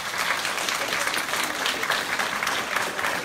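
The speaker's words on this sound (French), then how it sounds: "Alain, Thomas, Alexandre et Vincent, que je vous demande de bien vouloir applaudir s'il vous plaît." An audience at a reunion evening applauds for several seconds, a thick continuous patter of many hands at an even level with no other sound rising above it.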